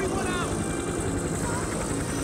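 A helicopter in a video game cutscene, with steady rotor chop pulsing rapidly and loudly throughout, overlaid by a constant engine whine and talk.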